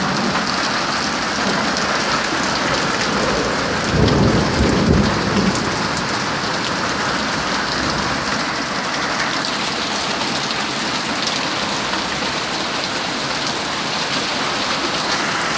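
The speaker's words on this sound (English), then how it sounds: "Rain is really coming down." Heavy rain and pea-sized hail pour down in a constant roaring hiss, with a brief low rumble of thunder early on, no voices present.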